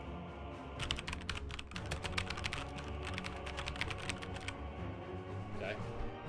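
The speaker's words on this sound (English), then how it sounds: "This is the sound of my current keyboard." Rapid clicking keystrokes on a computer keyboard, picked up close by a nearby microphone, in a dense burst that trails off into quieter background noise.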